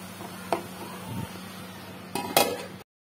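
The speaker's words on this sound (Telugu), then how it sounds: "ఒకసారి బాగా మిక్స్ చేసుకొని మూత పెట్టేసి మరో 5 నిమిషాలు మగ్గించుకుందాం" Onions in a pot being mixed, then a lid set on, in a home kitchen over a low hum: a metal clink near the start, softer scraping, then two sharp lid clatters before it cuts to silence.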